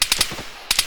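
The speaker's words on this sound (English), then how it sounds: "Taking heavy fire." Bursts of machine gun fire in the Arma 3 military shooter, two quick three-round volleys separated by a short pause, loud and close.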